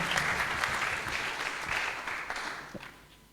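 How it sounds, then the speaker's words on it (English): An audience at an evening temple festival celebrating Lord Nityananda's appearance claps together in a dense, steady round of applause that gradually tapers off. "let's give everybody a nice round of applause"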